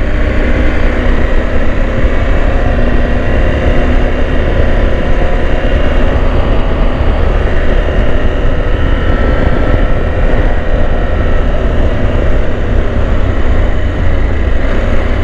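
Husqvarna Norden 901 motorcycle rolling at low speed through town, a loud continuous engine drone with steady rumble and wind noise close to the rider throughout.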